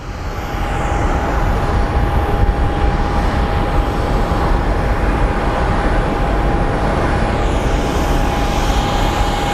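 A jet aircraft roars continuously at Phoenix Sky Harbor International Airport, a loud, broad rushing engine noise with a steady whine running through it and no talking.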